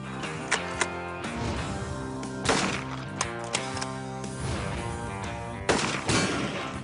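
Gunfire rings out at a gun shop during test-shooting: scattered sharp shots over a loud, busy background, with a few louder blasts standing out.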